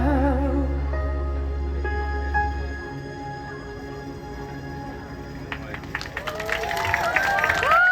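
A live concert audience applauds and cheers after a song, a burst of clapping and crowd noise rising near the end as a sustained tone fades out.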